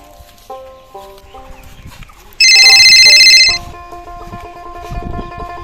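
A phone ringtone plays a short melodic tune, then a loud electronic ring bursts out for about a second before the tune resumes, with faint background noise.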